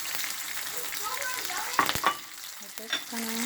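Food sizzling and frying in a pan over a lowered flame for ackee and saltfish, a steady hiss with occasional stirring clatter, heard close while a person speaks briefly over it.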